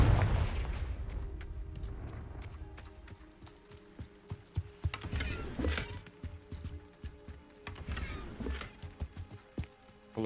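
A Confringo blasting spell goes off in Hogwarts Legacy, a loud burst followed by a crackling, rumbling fiery blast and a second similar explosion later, set against a thick layered game soundscape.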